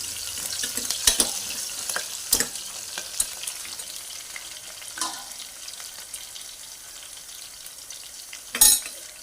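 Crushed garlic cloves and slit green chillies fry in a pan, a soft continuous sizzle broken by occasional louder crackles and stirring clatters, fairly close.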